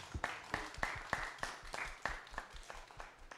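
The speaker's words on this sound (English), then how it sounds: "Let's give them another round of applause." Scattered clapping from a small panel discussion audience, with several sharp, evenly spaced claps standing out above a softer spread of applause.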